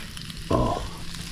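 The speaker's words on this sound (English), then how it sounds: "you can just hear them sizzling here in the pie iron" Firecracker sausages sizzling in a pie iron with onions and bacon, a short, quiet burst of frying crackle that flares for a moment over faint background hiss.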